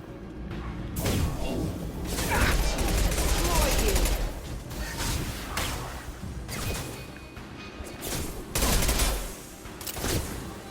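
Sustained automatic gunfire in the video game Mass Effect 2, with dense bursts of shots, impacts and crashes running continuously at close range, swelling in intensity and mixed with game sounds and voices.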